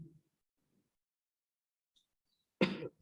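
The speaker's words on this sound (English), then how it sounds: "I've got too much cough." A single sharp cough near the end, close and clear after near silence, with a faint bit of voice at the start.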